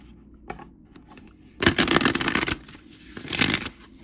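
Tarot cards are shuffled up close in two brisk bursts of riffling and flicking, separated by quiet handling, with no speech.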